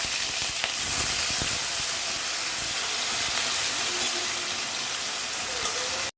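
Bitter gourd frying in a pan gives a steady, loud, close hiss of hot oil that sizzles evenly throughout and cuts off abruptly at the end, with no talk.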